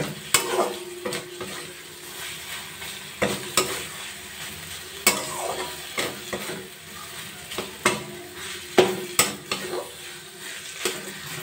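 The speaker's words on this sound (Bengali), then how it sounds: "ছানা দিয়ে মশলা দিয়ে ভালো করে কষিয়ে নেব" Chhana cooked down with spices in a pan, stirred with repeated sharp scraping strokes of a spoon against the metal over a low steady sizzle, close by and with no voices.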